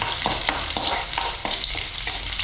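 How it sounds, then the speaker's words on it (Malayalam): Chopped small onions stirred and frying in oil after mustard seed tempering, a steady close sizzle with regular scraping strokes of a spoon against the pan, roughly every quarter second. "അരിഞ്ഞു വെച്ച ഉള്ളി ചെറിയ ഉള്ളി ഇട്ട് കൊടുത്ത് ഇളക്കാം"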